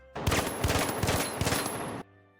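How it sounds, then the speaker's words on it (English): FAMAS rifle fired from the hip in the video game The Finals, a rapid burst of about eight sharp gunshots lasting under two seconds, loud and close. "did you know that it actually has really good hip fire too?"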